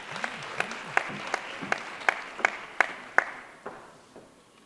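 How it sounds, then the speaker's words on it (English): Sparse, fairly faint applause at a Critical Minerals Summit greets a speaker taking the stage, with a handful of distinct claps in an even rhythm that thin out and fade. "Can we please welcome him with a warm round of applause?"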